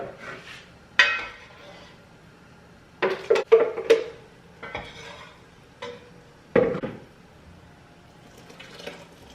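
A spoon scrapes and clinks in a pot as stock and a seasoning mix are stirred for beef stew. The sharp metallic knocks come in irregular bursts, with quieter stirring in between, and no one speaks.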